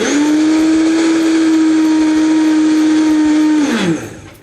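A Vitamix 5200 blender grinds sugar and cornstarch into powdered sugar with a loud, steady high motor whine and rattling churn, then winds down sharply at the end.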